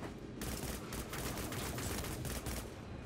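Rapid combat rifle fire in the sci-fi shooter Dust 514, a dense, continuous rattle of shots close and loud with brief dips between clusters, no talking.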